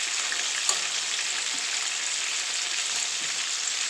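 Floured meatballs sizzle and fry steadily in a pan, a constant close crackle with a couple of soft clicks as pieces are flipped over.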